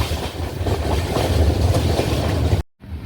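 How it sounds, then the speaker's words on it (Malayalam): The Pune–Kanniyakumari Express rumbles and clatters loudly into Parassala railway station, its wheels clicking steadily over the rails before the sound cuts off abruptly near the end. "പാറശാല റെയിൽവേ സ്റ്റേഷനിലേക്ക് അങ്ങനെ ട്രെയിൻ വന്ന് കയറിക്കൊണ്ടിരിക്കുകയാണ്"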